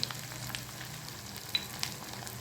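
Dry spices, turmeric and coriander powder, fry quietly in hot oil, giving a soft, steady sizzle with a few faint clicks of stirring.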